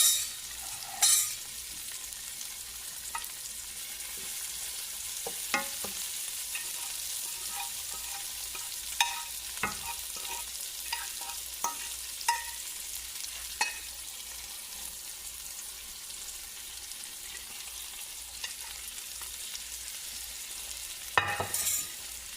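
Flour is stirred into hot vegetable oil in a pan, a soft continuous sizzle with intermittent scraping and tapping of the utensil, close but fairly quiet, no voices.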